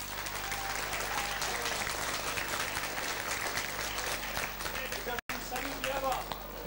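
A crowd at a Bastille Day village festival applauds the volunteers, dense steady clapping that fills the whole stretch with a brief drop near the end.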